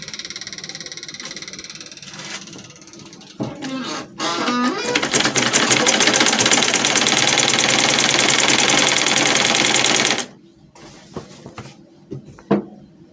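Sewing machine stitching a line of smocking on an off-the-shoulder dress, running in a loud, fast continuous rattle for several seconds, with a few handling clicks before and after.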